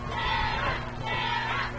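Spectators at a 5A girls lacrosse semifinal between Olympus and Brighton cheer and shout in two loud surges, a big outdoor crowd roaring together.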